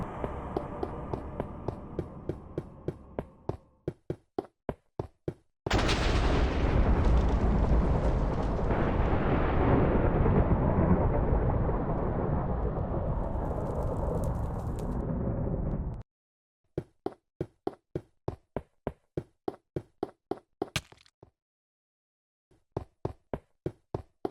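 Lightning striking in a scary Minecraft version: a loud, rumbling thunder crash that roars for about ten seconds, framed before and after by rapid, evenly spaced knocking clicks.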